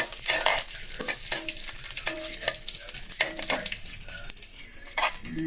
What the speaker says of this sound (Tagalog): Gigisa lang natin ito hanggang sa lalabas ng kanyang aroma.